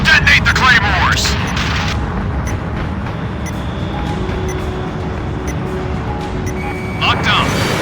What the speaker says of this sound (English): Detonate the claymores!